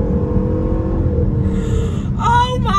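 A V8 Range Rover's engine drones low on an open road, then rises as the driver drops a gear and accelerates. The revving climbs loudly near the end, with a voice reacting over it.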